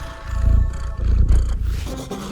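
A cat purrs loudly and close, a deep rumbling vibration rising and falling in slow rhythmic waves.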